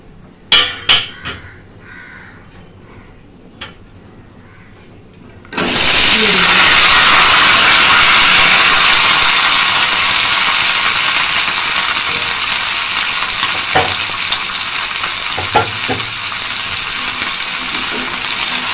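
Vegetables go into hot oil already tempered with spices in a pan and set off a sudden loud, close sizzle. A few clinks come first, and the steady hiss fades only slightly as stirring noises come and go.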